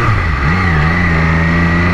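An MV Agusta motorcycle engine runs on a winter ride in Australia, a steady close-up drone whose pitch climbs slightly early on and then holds even and loud.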